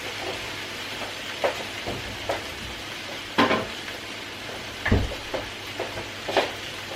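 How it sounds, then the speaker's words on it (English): Butter melting and sizzling in a hot pan over browned lamb, a soft constant fry under intermittent scrapes and clinks of a utensil stirring and tossing the meat. "Just going to let that butter melt and get it tossed across everything"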